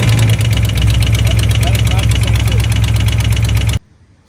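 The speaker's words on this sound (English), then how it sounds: "now it sounds like my engine is knocking" A 2010 Ford Mustang GT idles loudly and close, its low rumble carrying a rapid, regular ticking knock that persists until the sound cuts off abruptly near the end, with a voice briefly heard.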